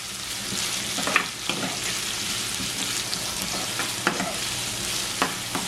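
Curry leaves and green chillies sautéing in a pan for a fish roll filling make a dense, continuous sizzle, with regular stirring scrapes and taps up close.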